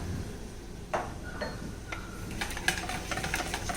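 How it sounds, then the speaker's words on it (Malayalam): Milk powder stirred into yogurt and condensed milk in a bowl for pudding, a spoon ticking and clinking lightly against the sides in an irregular rhythm under a steady background hum. "ഇതിലേക്ക് നമുക്കിനി എടുത്തു വച്ചിരിക്കുന്ന പാൽപ്പൊടി ഇട്ടിട്ട് അതുപോലെ തന്നെ നല്ലതുപോലെ മിക്സ് ചെയ്തെടുക്കാം"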